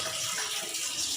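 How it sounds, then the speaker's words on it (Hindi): A kitchen tap runs with very cold water while dishes are washed, giving a steady, close, even gushing splash with no break and no voices. "धुल गए थे मेरे बर्तन।"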